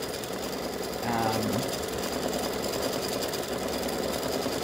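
An embroidery machine stitches the second layer of a freestanding lace teardrop snowflake earring with a steady fast mechanical chatter. A brief voice comes in under it.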